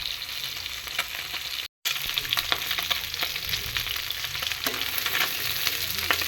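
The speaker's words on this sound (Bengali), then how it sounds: "মাছগুলো এক পিঠ হয়ে গেলে উল্টে দেব।" Bata fish frying in hot oil for a mustard-paste fish curry, a steady close crackling sizzle with sharp pops, broken by a brief silent gap, then continuing alone without talk.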